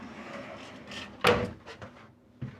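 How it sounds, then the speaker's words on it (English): A shower door in an RV slides and shuts with a sharp clack, followed by a softer knock a moment later in a quiet room. "And when I close the door"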